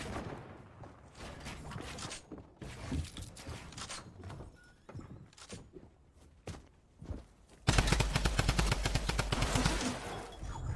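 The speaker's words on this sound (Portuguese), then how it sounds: "tem alguém atirando" Gunfire in a shooter video game: scattered shots and footsteps at low level build to a loud burst of rapid automatic fire that runs steadily to the end.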